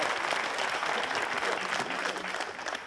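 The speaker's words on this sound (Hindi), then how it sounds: "एक राउंड तालियों का भी बाकी है" An audience breaks into steady, full applause at a televised show, dense clapping throughout at a constant level, close and loud, with no talk over it.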